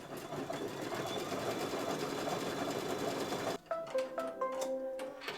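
A sewing machine runs steadily, stitching a blanket stitch on a fabric chicken for several seconds, then stops abruptly and leaves quieter clicks and faint tonal beeps.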